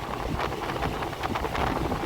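Wind rushing past a moving train on the Dharwad to Mumbai line through the Konkan countryside, a loud, steady buffeting roar with gusty fluctuations, no talk.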